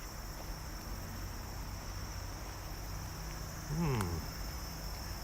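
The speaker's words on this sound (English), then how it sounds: "Cicada buzzing." A steady, high-pitched cicada drone buzzes continuously at a moderate distance in Japan, with a brief low sweep of another sound near the end.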